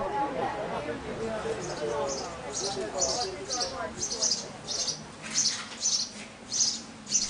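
Repeated high, bright bird chirps ring out in short bursts at an abbey and monastery in Scotland, steady and fairly close, beneath a continuous speaking voice.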